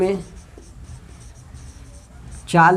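Chalk or marker scratches across a board during a physics lesson on semiconductors, a faint run of short strokes, with a teacher's voice briefly at the start and again at the end.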